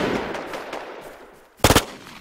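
A quick burst of about three or four video-game gunshots cracks out sharply near the end, loud and close, after a stretch of faint background hiss.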